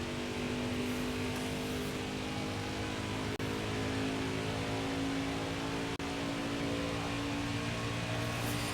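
A truck engine races flat out through turns 3 and 4 during a qualifying run in Nascar Heat 5, a steady, sustained high-revving drone with constant tonal whine and no gear breaks, loud and continuous throughout.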